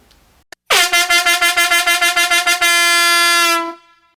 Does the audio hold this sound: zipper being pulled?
no